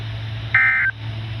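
A NOAA weather radio emergency alert sounds a single short, steady electronic tone burst, loud and clean over a low hum, then cuts off.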